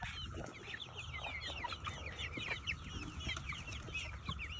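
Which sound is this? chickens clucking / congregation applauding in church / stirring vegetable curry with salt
chickens clucking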